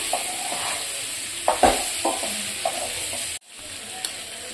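Spices and chilli powder are stirred into mango pickle in a hot pan, a low sizzle under a few spoon scrapes and knocks, cut off abruptly before a brief quieter tail.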